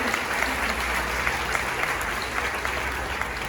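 A church congregation at a retreat applauds in praise, a steady wash of many hands clapping at moderate volume throughout.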